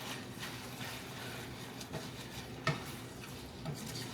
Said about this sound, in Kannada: ನೂಡಲ್ಸು ಹೈ ಫ್ಲೇಮ್ ಒಳಗೆ ಫ್ರೈ ಮಾಡ್ಕೊತಾ ಇದ್ದೀನಿ